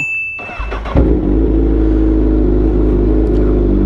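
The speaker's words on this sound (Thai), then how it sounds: "เสียงเกียร์โคตรดังเลย" A Honda CBR1000RR motorcycle engine starts with a sharp gear clunk, then settles into a loud, steady low rumble close by.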